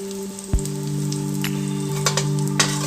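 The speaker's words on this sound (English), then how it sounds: "I'm going to allow it to fry a little bit." Green chilies frying in hot oil in a pot, a steady close sizzle with scattered crackles and pops and one sharp knock early on, with no voices.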